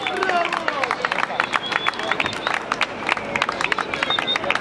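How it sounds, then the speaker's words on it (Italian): Applause and cheering rise from a crowd as a sports club president comes onto the stage at a club presentation, with irregular claps and whoops mixing with overlapping voices and crowd chatter. "sul palco il presidente Graziano Menna, un applauso."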